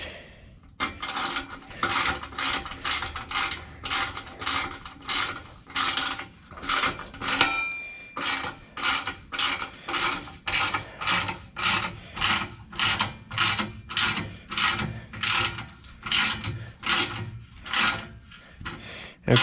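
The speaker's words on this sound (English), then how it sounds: "And now I'm gonna tighten up the back strap on the tank." A ratchet tightens the rear strap on the driver side air tank of a 2007 Freightliner Columbia truck, giving a long run of evenly paced, loud rasping clicks close by, about twenty strokes with brief pauses between them.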